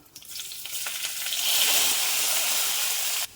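Sliced ginger and garlic hit a hot oiled pan for chicken mappas, sizzling and frying loudly, the hiss swelling steadily and holding close before cutting off abruptly.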